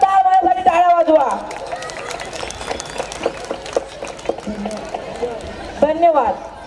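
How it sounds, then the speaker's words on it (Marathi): An audience claps at a school annual function at ABM English School, a dense patter of hands that fills the middle stretch between spoken voices at the start and end. "तर जोरदार माझ्यासाठी टाळ्या वाजवा."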